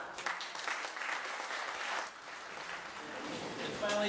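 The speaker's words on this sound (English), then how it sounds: "deserves an incredible round of applause" Audience applause at an art awards ceremony in the Eau Gallie Art District, steady crowd clapping that fills the room for a few seconds, with some voices mixed underneath.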